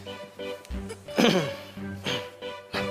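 A person coughs and splutters as if choking, a few harsh bursts near the mic with a louder fit in the middle, in a drama scene with background music.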